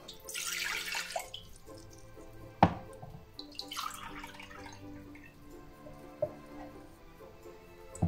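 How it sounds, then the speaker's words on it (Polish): Boiling water pours into a drinking glass while making homemade strawberry gummies: a short splashing pour, then a sharp clink and a few quiet drips and taps in a still kitchen. "Wlewamy do szklanki."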